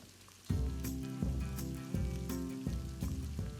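Tomato sauce of strained tomatoes, salt and pepper cooks down in a pot, giving a loud bubbling sizzle that swells in repeated surges about every second, close and continuous with no voices.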